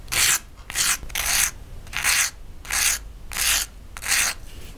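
Sanding the edges of a metal tab set pendant by hand, around the front and back, gives a steady run of seven gritty rasping strokes, each about half a second long, close and fairly loud with brief pauses between them.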